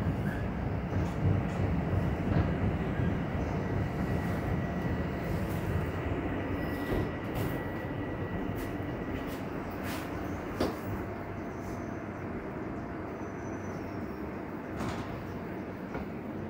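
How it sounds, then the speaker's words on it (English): Toronto subway train riding between Broadview and Bloor-Yonge in February 2021, with a continuous low rumble and rattling from the car, occasional sharp clanks and squeals, and brief high-pitched door and signal tones. "I took the subway over to Bloor-Yonge, and then transferred northbound"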